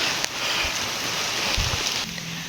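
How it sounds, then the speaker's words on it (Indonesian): Steady rain falls around a small hut on a mountain slope, a dense, even hiss of drops on surfaces with a few soft thumps, heard close and alone without voices. "Dan ini turun hujan"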